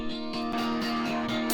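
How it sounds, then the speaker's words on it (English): UJAM Sparkle virtual guitar chords run through a phaser, a sweeping, swirling tone over steady strummed rhythm, loud and upfront with no voices. "Then I'm adding a phaser."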